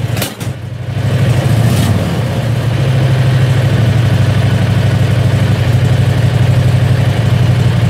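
A Predator 670cc gasoline engine runs steadily at a fast idle with the accelerator slightly pressed, a loud continuous buzzing drone after a brief sputtering start.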